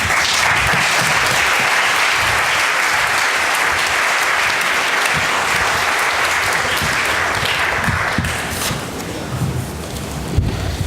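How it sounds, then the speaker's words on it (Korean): A church congregation at a Sunday Reformation Day service applauds to welcome the pastor, loud sustained clapping from a full room that holds steady for several seconds before thinning out near the end. "목사님 나오실 때에 박수로 환영하도록 하겠습니다"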